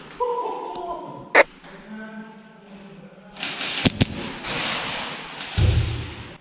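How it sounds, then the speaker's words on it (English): An airsoft grenade goes off during an indoor skirmish as a sharp burst followed by a hissing spray, after earlier muffled thuds, with players' voices calling out around it. "That guy threw a grenade and Thomas was killed."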